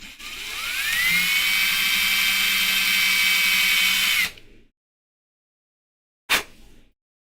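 A power drill whines loudly at steady speed for about four seconds, then stops; after a pause, a short sharp burst follows before silence, with no talking.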